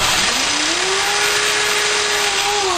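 Power drill boring a 5/8-inch hole for a homemade harmonica mic, a loud, steady high whine whose pitch rises as the bit spins up, holds, then drops slightly near the end, with no speech.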